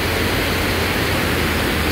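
Steady close rushing of the Putamitsa river running under a footbridge in Yalta, a constant hiss-like flow of water that stays even throughout.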